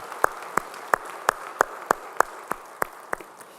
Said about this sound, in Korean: 우리 찬양할 수 있게 영광의 박수 올리겠습니다